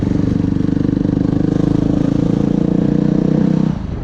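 A Yamaha WR250R motorcycle engine runs with a loud, steady, close throb and even pulsing, then eases slightly near the end, with no voices.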